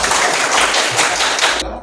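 A classroom of students claps together in a brief burst of applause, dense and fairly loud, ending abruptly.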